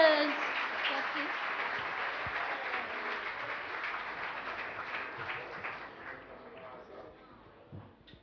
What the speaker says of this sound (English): Big round of applause for our dancers.